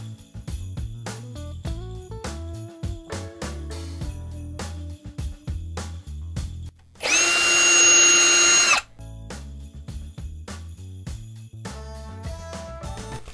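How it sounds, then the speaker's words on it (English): A power drill whirs loudly for about two seconds while drilling holes in a decorative tray, standing out from soft background music before and after. "I will be using my drill to make 2 more holes on the opposite side"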